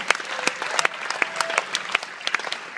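A small audience claps for a senior cellist in an ensemble, a light, sparse patter of individual claps at moderate distance, uneven and thin rather than a dense roar, with no voices over it.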